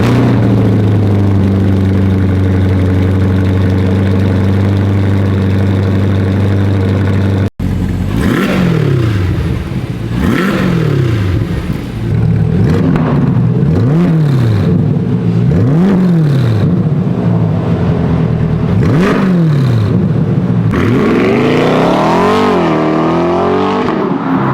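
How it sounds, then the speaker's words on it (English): A 2025 Corvette E-Ray fitted with an AWE Track Edition exhaust fires up after a brief steady drone, then barks through a series of sharp throttle blips and longer revs over a rough idle, loud and close. "We're gonna go ahead and give you guys the first startup."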